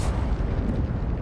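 A Confringo spell blast erupts as a dense, roaring burst of explosive noise that fills the whole short moment at steady loudness, with no voices over it.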